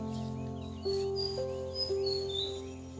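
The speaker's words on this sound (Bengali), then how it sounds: "তারপরে মা বলে না পাখি ডাকছে" Several high, thin bird calls ring out in short repeated phrases over a steady low mechanical hum, fairly faint and at a distance.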